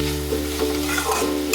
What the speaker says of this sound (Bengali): প্রত্যেকটা একটা জিনিসকেই আমি এর সঙ্গে ভালো করে একটু ভাজা ভাজা করে নিচ্ছি।